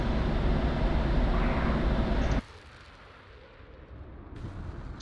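Bomb dropped from an F-16C Viper in the DCS flight simulator bursting as a loud rumbling explosion that roars for about two seconds, then cuts to a quieter cockpit hum.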